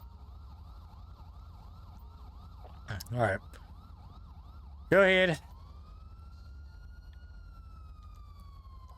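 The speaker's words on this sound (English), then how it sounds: "I don't know why his sirens are going." Police car sirens wail in GTA V with the LSPDFR mod, a cycling yelp that sweeps steadily up and down in the background, while a person speaks briefly twice over it.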